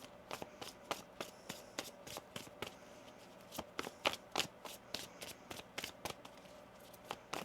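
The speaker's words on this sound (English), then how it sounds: "One more shuffle." Tarot cards shuffled by hand in a quiet room, a rapid series of crisp riffling snaps and soft flicks repeating in bursts, close and fairly faint with no talk.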